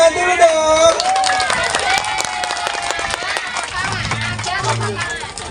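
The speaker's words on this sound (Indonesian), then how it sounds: "Tepuk tangan dulu dong." A group of people clap at a fire station post in Rembang during a school outing, the scattered claps mixed into loud voices and crowd chatter close by.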